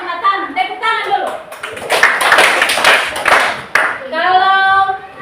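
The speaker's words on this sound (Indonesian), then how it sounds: "Tepuk tangan dulu." A group claps hands in a short rapid burst in the middle, set between stretches of close, loud speech from a presenter before and after.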